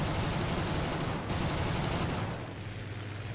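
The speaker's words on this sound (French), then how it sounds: "Ça tire de partout." Dense, continuous gunfire in War Thunder during a tank and aircraft battle, a steady rattling barrage of shots heard at moderate level.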